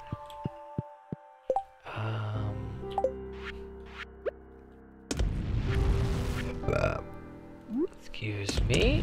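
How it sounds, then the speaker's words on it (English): A burp lands right into a microphone during a Stardew Valley play session, a sudden low guttural blast mixed with game music and close-miked vocal noise. "burping into the mic there"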